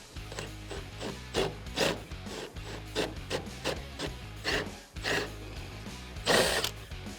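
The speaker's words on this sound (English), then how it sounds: "So now I'm going to take this Forstner bit and I'm just going to put a little spot face" A Forstner bit drills a shallow spot face into wood for a floating shelf, giving repeated bursts of grinding, rubbing bit noise over a steady low motor hum, close and fairly loud with no talk.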